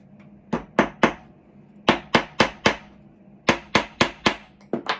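A hammer drives a nail into a small wooden family name house piece, about thirteen sharp, close knocks in three quick clusters with short pauses between them.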